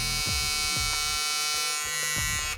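A 9000 RPM electric hair clipper for fading hums with a steady, close, high-pitched buzz, its tone shifting slightly as it runs.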